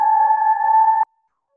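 Synth instrument with a distortion effect, one sustained buzzy tone held steadily for about a second and then cut off abruptly.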